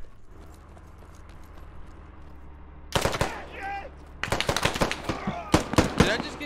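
Gunfire in a squad-based military shooter video game set in a Russian city: a loud short burst, then rapid volleys of close shots that come in quick clusters.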